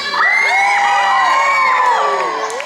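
A group of children screams and cheers loudly and continuously at a science museum event, shrill overlapping voices and whoops filling the whole stretch.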